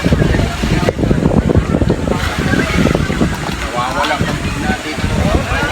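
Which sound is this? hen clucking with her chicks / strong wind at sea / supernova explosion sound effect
strong wind at sea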